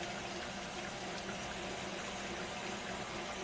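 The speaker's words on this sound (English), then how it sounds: "it's gonna stay low while we slowly pour in liquid nitrogen" Liquid nitrogen poured slowly, a steady close hiss and rushing gush with constant loudness throughout, broadband and continuous with no pauses.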